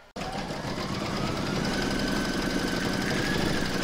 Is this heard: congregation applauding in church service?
no